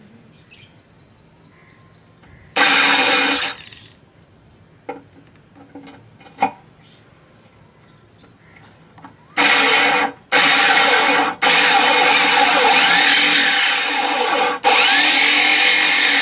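A diamond cutter bit drills a hole through aquarium glass, grinding loudly in a short burst and then a long sustained stretch broken by brief stops, with quiet clicks and handling noises between, close by and without talk.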